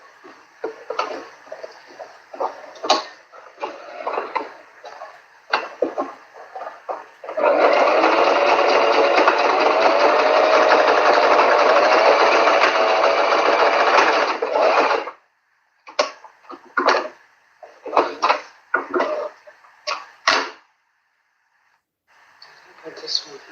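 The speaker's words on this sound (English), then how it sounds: "Sew it down at the edge also." A sewing machine stitches along a fabric edge while drafting a fitted pattern, running in one steady loud burst of about eight seconds, with short bursts of talk and breathing before and after.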